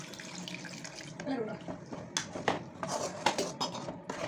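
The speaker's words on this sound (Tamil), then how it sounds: "அப்படி தண்ணி ஊற்றிங்க" Water splashes and pours into a metal pan while making fish curry, with clinks and knocks of cookware close by and a busy kitchen background.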